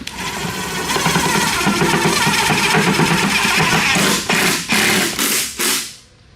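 A cheap 10HP diesel engine on a go kart clatters into life and runs with a steady, loud, close chugging, then revs in a few surges before cutting off.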